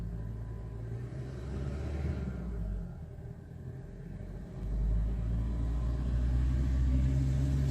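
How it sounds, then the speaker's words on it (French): A truck passes on the road, its low engine rumble holding steady, dipping briefly, then swelling louder and heavier as it draws near, with no voices over it. "C'est pas une voiture, c'est un camion."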